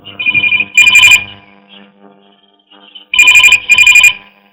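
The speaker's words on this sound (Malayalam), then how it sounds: "നിനക്കൊരു ഫോൺ" A telephone rings loudly and close, with an electronic warble in repeated bursts and a pause between the first pair and the second pair.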